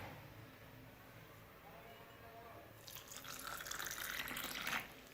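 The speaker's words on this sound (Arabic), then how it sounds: "نضعها في كأس ماء، في كأس، ونضيف الماء" Water runs from a tap into a glass holding mint cuttings, a steady splashing pour starting partway through at close range and building briefly before easing off.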